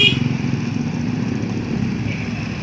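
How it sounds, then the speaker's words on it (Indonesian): An off-road motorcycle passes on the road near Gunung Pariuk in Leuwiliang, Bogor, its engine giving a loud, steady buzzing drone close by. "Motor off road depan."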